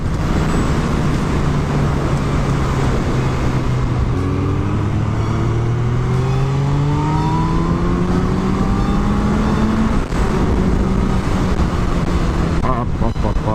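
A 2017 Kawasaki Z900 motorcycle engine drones steadily while riding, its pitch rising through the gears over heavy wind rush, with a voice speaking underneath.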